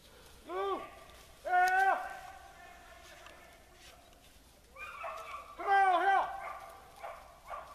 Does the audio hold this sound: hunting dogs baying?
yes